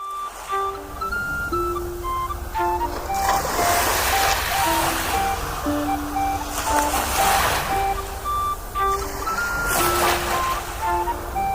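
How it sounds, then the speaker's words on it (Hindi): Sea waves wash against the rocks at China Port in Karachi, rolling surges that swell and break every few seconds beneath steady music. "जब पानी की लहरें पत्थरों की तरफ आ रही थी"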